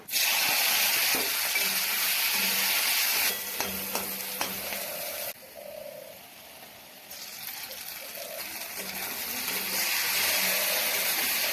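Pointed gourd paste fries with onion and black cumin in hot oil in a kadai, giving a loud, continuous sizzle and hiss that dips briefly, with occasional stirring knocks and no talk.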